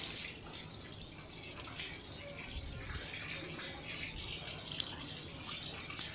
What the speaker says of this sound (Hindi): देखिए कितना प्रेशर से पानी हमारा आ गया।